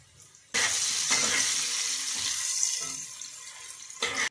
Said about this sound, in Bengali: আলুটাকে এরপর লবণ ও হলুদ দিয়ে ঢাকা চাপা দিয়ে লাল লাল করে আমরা ভেজে নিচ্ছি।